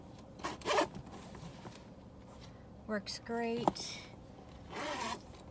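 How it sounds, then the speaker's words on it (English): Quick zipping strokes of a chunky zipper on top of a Dooney & Bourke purse being pulled open and shut, several short bursts with a brief spoken remark in between, close and fairly soft. "the chunky zipper on the top"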